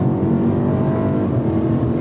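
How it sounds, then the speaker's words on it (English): A BMW E92 M3 with its motorsport V8 engine accelerates in a loud, steady, close roar that holds for a couple of seconds. "you have a proper motorsport V8 engine"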